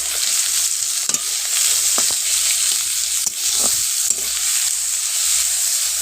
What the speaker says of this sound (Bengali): আবারও আমি কড়াইয়ের মধ্যে সাদা তেল দিয়ে দিলাম আর এর মধ্যে দিয়ে দিলাম পেঁয়াজ কুচি